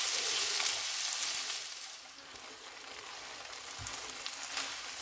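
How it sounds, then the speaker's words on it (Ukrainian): Onion frying in oil in a pan for homemade adjika, a steady close sizzle and crackle that eases slightly midway and then continues without speech. "Висипаю цибулю і хай трохи підрум'яниться"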